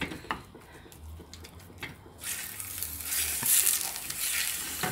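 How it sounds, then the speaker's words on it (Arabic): Minced meat frying in a pan for Algerian teliteli, starting with a few stirring clatters and then breaking into a steady sizzle that stays close and loud to the end. "نبدا نقليوه"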